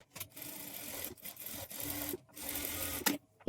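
Sewing machine stitching along the edge of a blouse neck: quiet bursts of rapid mechanical whirring broken by short pauses and soft clicks, close by and without speech.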